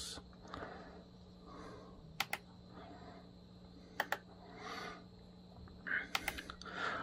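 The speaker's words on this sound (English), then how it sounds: "I have one of these ridiculous keyboards with a built-in mouse" Keyboard keys being typed on a keyboard with a built-in mouse, a few sparse sharp clicks in short clusters over a steady low hum in a quiet room.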